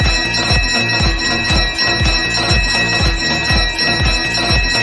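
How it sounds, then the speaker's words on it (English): Bell ringing sound effect played on a podcast stream, a loud repeated electronic ring that pulses steadily in rapid bursts with bright sustained tones above, alone without talk. "Ring the bell."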